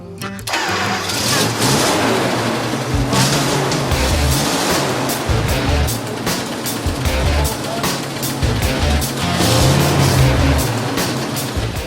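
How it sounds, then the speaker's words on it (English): A BMW M3 engine fitted with a new distributor cap cranks and fires, then keeps running with a loud, rough, uneven roar for the whole stretch, close up and without talk. "Hopefully, the new distributor cap will get the M3 firing."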